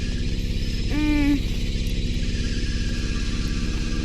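Car with a completely blown motor running, smoke seeping from the front engine: a rough, loud, rapidly pulsing idle that continues throughout, with a brief rising whine near the start.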